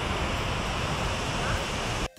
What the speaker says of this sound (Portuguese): aqui você vê toda a queda de água caindo